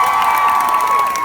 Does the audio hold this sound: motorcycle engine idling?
no